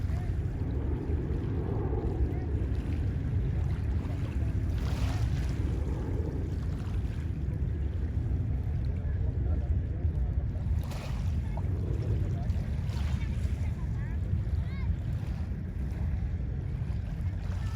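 A boat travels on the water of Manila Bay with a steady low engine rumble that continues throughout, overlaid by wind buffeting the microphone.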